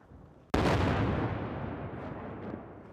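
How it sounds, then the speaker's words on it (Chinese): A single heavy artillery blast during shelling in Bakhmut, Donetsk, bursts in loud and close, then rumbles and decays slowly over the next few seconds. "在顿涅茨克的巴赫穆特，不时传出炮击声"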